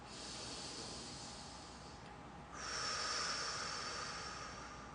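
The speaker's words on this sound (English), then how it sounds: "Breathe in the nose." A close, airy hiss of a slow breath drawn in through the nose during a relaxation exercise, easing off briefly and then swelling louder for a second, fuller pull of air.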